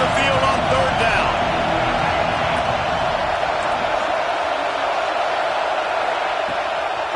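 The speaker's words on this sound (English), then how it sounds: "Here comes this home crowd as the defense tries to get off the field on 3rd down." Home crowd at a football game roaring steadily on a third-down defensive stand, a dense sustained wash of cheering and noise with a commentator talking over it throughout.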